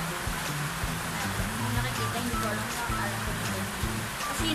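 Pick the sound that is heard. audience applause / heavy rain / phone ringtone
heavy rain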